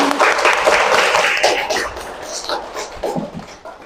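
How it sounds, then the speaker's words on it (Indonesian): A school class clapping hands together at the end of a lesson, a loud dense burst of applause that gradually thins out, with some voices mixed in. "tepuk tangan dulu untuk kita semua"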